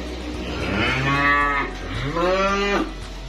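Limousin calves at a cattle trader's yard in Kediri, East Java, give two loud, close, drawn-out moos in quick succession over a steady low background hum.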